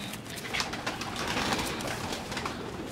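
Large pigeons of a prized breed coo nearby, soft throaty calls repeating in quick succession over a low ambient rustle, with no one talking.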